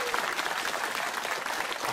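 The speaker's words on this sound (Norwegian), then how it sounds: "Gi begge lag en ordentlig applaus!" Steady applause from an audience at a televised chess team event, a dense even wash of clapping held at moderate loudness throughout, with a voice faintly mixed in.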